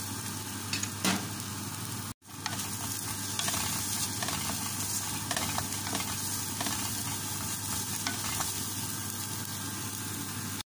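Fried rice with carrot being stirred in a frying pan, a steady close sizzle with scattered utensil scrapes throughout, and a brief dropout near the start; no talking.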